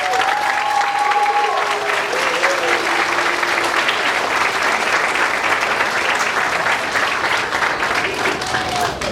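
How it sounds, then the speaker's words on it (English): An audience claps at a preschool graduation ceremony, dense, sustained applause from a large crowd with voices chattering and calling out beneath it throughout. "Let's give them a round of applause."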